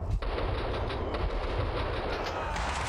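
Bursts of gunfire from the Max Payne 2 video game, sounding as a dense, sustained rattle of shots that runs loud and steady through the whole stretch, with no voice over it.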